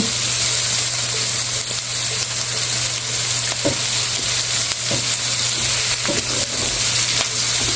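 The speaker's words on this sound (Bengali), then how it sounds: "এখন আমি তেলে পেঁয়াজ দিয়েছি" Onions fry in hot oil, a loud, steady sizzle close by, broken by occasional clicks and scrapes of stirring against the pan, with no talking.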